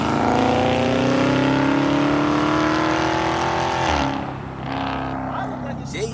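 A Dodge Charger Scat Pack revs high while drifting in an abandoned lot, a loud sustained engine note climbing steadily before dropping off sharply, then lower rumbling with tire and background noise as it settles.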